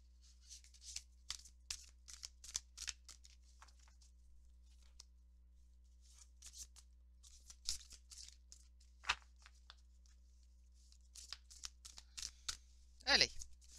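A deck of tarot cards shuffled by hand in quiet, close bursts of soft riffling and slapping, with pauses between, ending in a louder rustle near the end.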